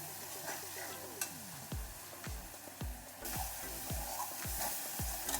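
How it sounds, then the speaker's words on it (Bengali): Peas-and-paneer kofta curry masala being sautéed in a pan, a steady sizzle with repeated scrapes and knocks of a spoon stirring, close and moderately loud with no talking. "আর একটু কষিয়ে নেব।"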